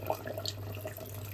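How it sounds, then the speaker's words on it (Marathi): Water is poured into a pot of Malvani-style mutton cooking on the stove, a brief, faint splashing trickle over a low steady hum. "आणि आपण हे आता पाणी त्याच्यात घालणार आहोत."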